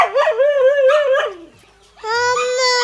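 A dog whimpers and yelps in a series of high, wavering cries, pauses briefly, then lets out a longer howling whine, close and loud.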